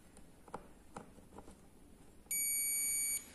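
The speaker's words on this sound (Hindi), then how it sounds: "देखिए यहाँ पर कैपेसिटर लगा है, बीप देता है" A multimeter gives a continuity beep while probing a capacitor on an LED/LCD TV board, a loud steady high-pitched tone lasting just under a second after several soft probe taps.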